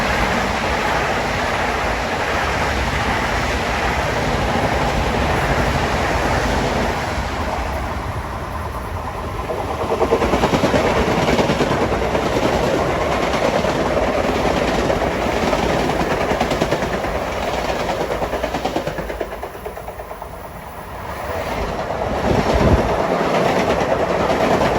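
Long Island Rail Road trains race past each other at Forest Hills during rush hour, a loud, continuous rumble and rhythmic clatter of wheels over rail joints that swells and fades as the trains pass close by.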